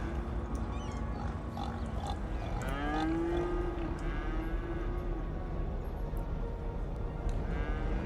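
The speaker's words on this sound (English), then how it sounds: "Those cows are really desperate for attention" Cattle in Cities Skylines let out a long, clear moo in the middle of a busy farm-animal backdrop, with fainter grunting and bleating around it.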